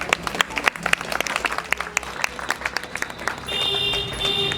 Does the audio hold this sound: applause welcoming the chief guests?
yes